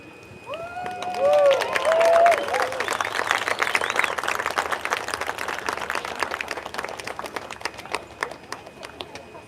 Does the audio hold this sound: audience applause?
yes